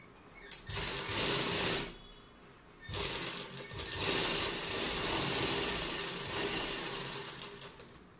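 An electric sewing machine stitches sleeve seams on a Punjabi suit at close range, running in fast whirring bursts with a short pause near the start and a longer stretch of steady stitching afterward.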